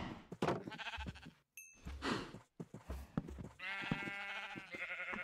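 Cows in the video game Minecraft moo and low several times in a row, close and fairly loud, with short gaps between calls and faint game sounds underneath.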